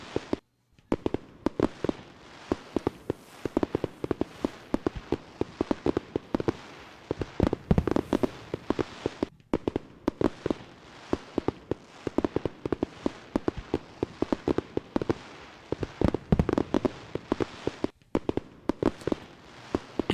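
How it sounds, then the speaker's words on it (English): Fourth of July fireworks burst continuously for twenty seconds, a dense barrage of sharp cracks and booming explosions with crackling tails and only brief gaps. "Oh my gosh, the fireworks. So loud."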